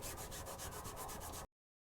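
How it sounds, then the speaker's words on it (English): A Scotch-Brite pad scrubs corrosion off a metal Pless snow plow, giving a steady, close, rhythmic rasping stroke for about a second and a half before it stops abruptly. "So generally what I do is we'll take a Scotch-Brite pad."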